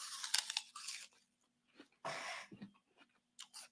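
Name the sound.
crunchy bites of an apple being chewed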